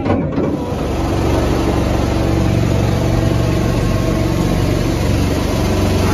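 Motor boat engine drones loud and steady throughout a boat ride, a constant close-up rumble with wind noise and no talking.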